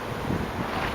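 Steady wind gusting outdoors at a spray-painting setup, buffeting the microphone with a continuous broadband rush.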